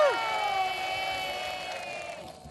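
Studio audience at a reality game show clapping and cheering in a short, lively burst that fades out by the end.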